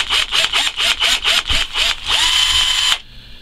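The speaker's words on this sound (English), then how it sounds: "And drill that hole I was talking about to make sure that it's empty." Close, loud power drill boring a hole in metal for a 1/10 scale muffler, in a rapid series of short bursts, then one sustained whine before it cuts out abruptly.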